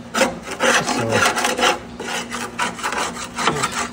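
Close, continuous rasping scrape as years of caked dirt and grime are worked off the underside of a 1965 Ford Thunderbird near the radiator area, steady strokes with no pauses.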